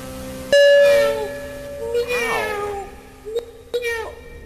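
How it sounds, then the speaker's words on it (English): A cat meows in the Rec Room VR game, one long drawn-out tonal cry followed by a wavering, rising and falling call, then short sharp clicks and a brief tail-off of sound. "Oh, it's the cat."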